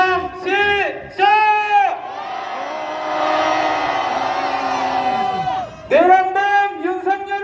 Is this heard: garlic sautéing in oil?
no